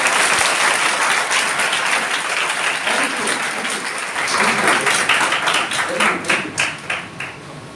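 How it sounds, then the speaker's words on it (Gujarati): A seminar audience at a high school claps loudly together, a dense sustained burst of applause that thins toward the end. "આ જે મનની વાત આવે છે એના માટે હું ચાહું છું એકવાર જોરદાર તાળી થાય"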